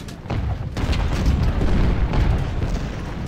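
Heavy booming cannon blasts in the video game Ultimate General: Civil War rumble continuously, deep and loud, with overlapping low thuds and no clear gaps.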